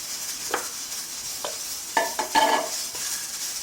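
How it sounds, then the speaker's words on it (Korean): A spoon working glutinous rice flour dough as hot water is mixed in, soft close scraping and wet tapping knocks against the bowl in a few irregular strokes over a faint steady hiss. "이 물을 50ml 정도 붓고 반죽을 하겠습니다"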